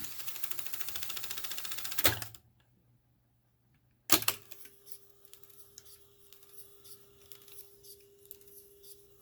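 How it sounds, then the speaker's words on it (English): TEAC 3300SX reel-to-reel tape deck, first a fast rapid ticking of tape and mechanism, then a sharp mechanical clunk, a silent gap, another clunk, and a steady tone with quiet motor hum from close by. "Rewind the tape a little bit."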